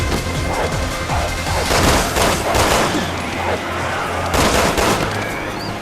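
Gunfire in Resident Evil 6 Mercenaries mode, with rapid overlapping shots, crashes and booms. The dense, loud bursts continue throughout with game noise, and players talk over the action.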